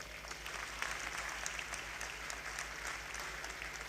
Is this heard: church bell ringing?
no